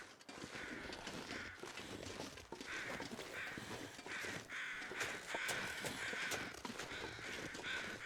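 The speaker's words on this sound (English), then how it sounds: "What did I leave up here that could be making bird noises?" Crows cawing in The Long Dark video game, repeated harsh caws in an irregular series from a moderate distance over a steady windy ambient bed.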